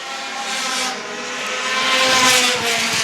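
Mini Stock race cars roar around the oval at Star Speedway during a feature race, a dense wall of engine drone from several cars that swells louder midway as the pack passes close.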